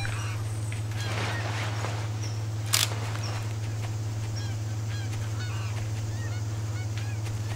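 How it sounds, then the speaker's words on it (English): A spur-winged goose in the hunting game Cabela's Big Game Hunter gives repeated short honks at a moderate distance over a steady outdoor ambient hum, with one sharp click midway. "Spur-winged goose."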